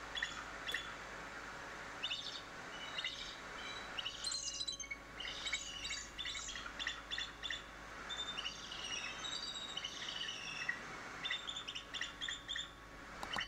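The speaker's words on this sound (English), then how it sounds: "This is a bald eagle." Recorded bald eagle calls play back as a busy series of high, thin chirps and twittering squeals that come in quick bursts over steady background hiss, with no talking.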